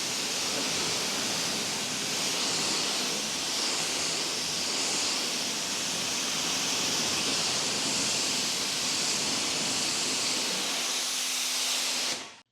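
An AR630 V2 pressure washer sprays water in a loud, steady, broadband hiss that holds unbroken for about twelve seconds before cutting off abruptly, with no talk.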